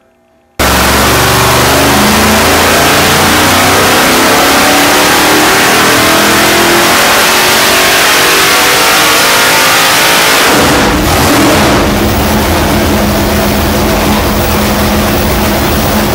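A 600 cubic inch pump-gas racing engine on a dyno roars up through a long, loud rising rev pull, then drops off sharply and settles into a rough, rumbling idle, with no talking.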